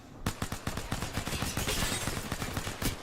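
Rapid bursts of gunfire from an Apex Legends match at a competitive ALGS LAN event, dense overlapping shots in steady rhythm, loud and close throughout with no talk.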